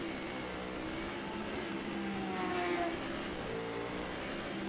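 Superbike motorcycles roar past on a racetrack during an Open Superbike club race, a steady loud engine drone that swells briefly mid-way, with a commentator's voice faintly underneath.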